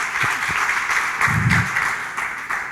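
Applause at an Argentine event on federalism and gender equality, honoring the Ministry of Women, Gender and Diversity; steady crowd clapping fills the clip at moderate volume, with a brief low murmur in the middle.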